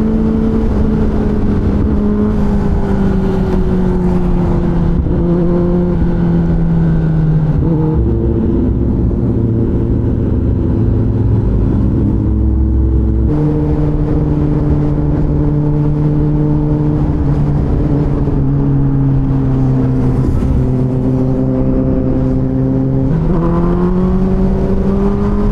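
Superbikes, a Kawasaki H2, ZX10R, Honda Fireblade and Suzuki Hayabusa, scream continuously on a ride, their high engine notes climbing and shifting through gears, loud and close for the whole stretch.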